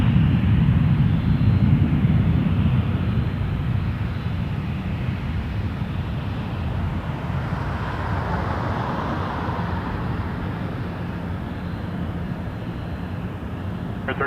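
Fixed-wing airliner taking off from runway 23 at Toronto Pearson Airport, heard as a steady, loud jet roar with heavy low rumble and some wind buffeting, sustained throughout without voices.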